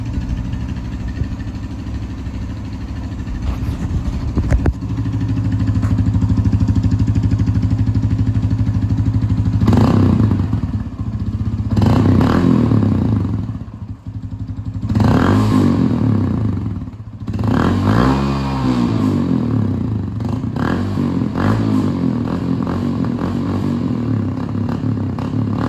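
A 2021 Honda CT125 (JA55) fitted with a Takegawa sports exhaust runs loud and close, its single-cylinder idle rising into several sharp throttle blips and revs that fall back to a lumpy idle.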